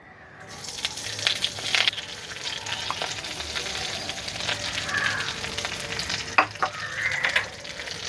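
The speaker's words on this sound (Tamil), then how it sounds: "கருவேப்பிலையை நல்லா மொறுமொறுப்பாக வறுத்துக்கணும்" Curry leaves hitting a little hot oil in a kadai burst into a crackling sizzle, then keep popping and spitting with scattered sharp crackles and a few stirring clicks, close up and fairly soft.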